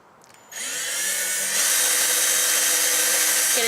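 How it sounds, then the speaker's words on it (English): A power drill bores a hole straight through a piece of wood for a DIY single-cup tumbler turner, spinning up loudly after a short pause and holding a steady, rising whine until the end. "Gonna drill it through."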